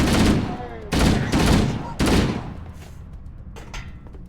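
Gunfire from Halo: Combat Evolved, loud bursts of weapon fire in three heavy salvos close by, followed by quieter scattered shots trailing off.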